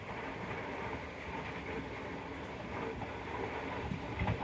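Green Line Express passenger train rolling past on rails between Kot Radha Kishan and Changa Manga, a steady broadband rumble with faint clatter throughout, fairly loud and continuous with no voices.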